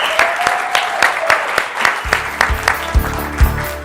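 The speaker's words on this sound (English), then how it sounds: "I think we all should give Joe one more round of applause for being extraordinary" An audience applauds Joe after an event, steady clapping throughout with sharp individual claps standing out, swelling into fuller, heavier claps in the second half.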